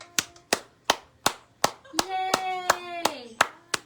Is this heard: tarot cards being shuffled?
no